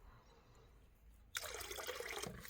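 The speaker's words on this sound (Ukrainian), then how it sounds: "беремо мідний купорос і виливаємо його розчин у вапно, а не навпаки, тоненькою цівочкою." A thin stream of copper sulfate solution is poured into lime while mixing an orchard spray. After a quiet start, a steady splashing trickle begins abruptly and runs on with no talking.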